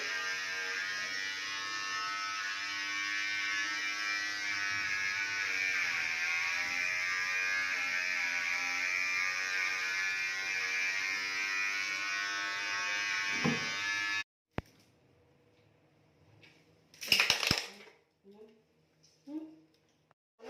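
Electric clippers shave a dog's fur to remove ticks, buzzing steadily and up close for about fourteen seconds before switching off, followed by a few faint knocks and brief speech.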